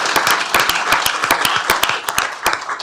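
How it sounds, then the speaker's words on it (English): A modest crowd at a Tarrant County Commissioners Court meeting gives a short round of applause, with scattered, distinct claps in an uneven rhythm, fairly close and clear. "Let's give him a round of applause."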